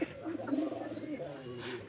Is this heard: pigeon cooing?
yes